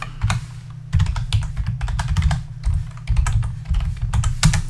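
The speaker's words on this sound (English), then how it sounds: "So put in your username and password." Rapid, close computer-keyboard typing as a username and password are entered, crisp key clacks in uneven bursts with short pauses, no voices.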